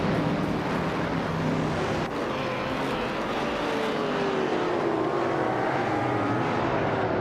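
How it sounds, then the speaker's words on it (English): A 1967 Chevrolet Impala SS engine in a racing video game drones loud and steady with a continuous roar, the pitch easing and shifting as gears change, with no pause throughout. "D-Factor is cruising in a 1967 Chevrolet Impala SS"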